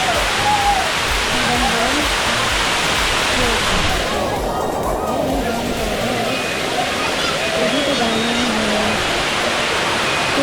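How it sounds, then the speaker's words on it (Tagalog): Steady, broad rushing water pours down Gabur-Gabur Falls in Peñablanca, Cagayan, nearby, filling the scene with constant roar while a person speaks over it. "So, ayan, pababa dyan yung tubig."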